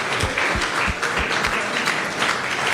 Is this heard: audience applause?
yes